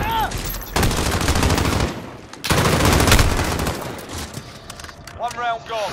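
Video game gunfire in rapid bursts, loud and close, broken by brief pauses, with game sounds and some speech mixed in.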